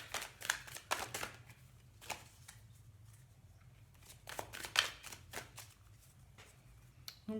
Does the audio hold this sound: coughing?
no